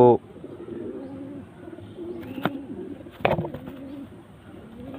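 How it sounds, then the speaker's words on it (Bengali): A high-flying pigeon coos in short, low bursts at close range, with a couple of sharp taps or wing flutters in between and a faint background hum. "এটা একটা হাই ফ্লাইং কবুতর।"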